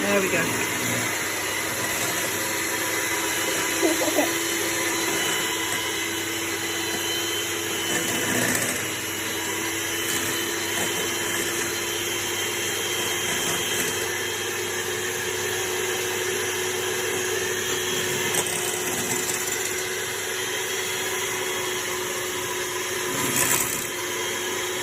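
An electric mixer whisks lemon meringue pie filling in a bowl with a steady, even motor whine that runs without a break, close and fairly loud, while people talk briefly over it.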